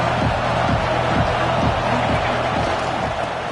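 A college football stadium crowd cheers as the team drives into the red zone, a loud continuous roar with a voice talking over it.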